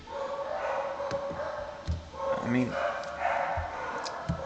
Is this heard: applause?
no